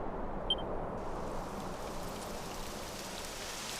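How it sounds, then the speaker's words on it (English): Rain begins falling in the Dragon Quest XI video game, a steady hiss of rainfall that thickens and settles into an even, continuous wash. "It would have to go and start raining, wouldn't it?"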